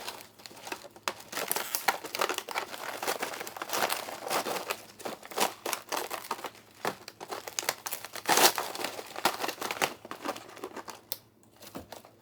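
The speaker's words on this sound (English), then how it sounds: "I'm just going to break that up just a little bit to make the pouch easier to close." Freeze-dried jambalaya crackles and crunches as it is broken apart inside a plastic pouch, with a steady run of close, dense crinkling and snapping bursts and no talking.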